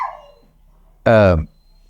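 A dog at an animal shelter gives a short whine followed by a single loud, close bark, the rest quiet.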